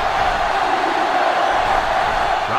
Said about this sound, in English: This crowd is almost shaking the stadium.